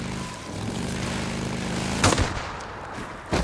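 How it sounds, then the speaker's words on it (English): Sniper gunfire in Days Gone: two sharp, loud shots ring out a little over a second apart, over a background rumble of engine-like noise. "Sniper on the road."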